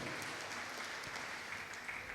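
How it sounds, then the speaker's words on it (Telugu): At a church healing meeting, a crowd claps hard and continuously, a dense, even wash of applause that fills the whole moment without pauses, heard from a distance and fairly quiet overall. "గట్టిగా చప్పట్లు కొడి"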